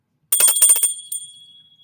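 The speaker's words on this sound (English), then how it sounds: "This is my tarot bell." A tiny handheld tarot bell rings in a quick flurry of bright, high metallic jingles, then gives one short extra ring that fades out alone, close and clear.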